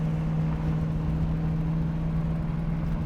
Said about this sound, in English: And that exhaust, man, listen to it, sounding awesome.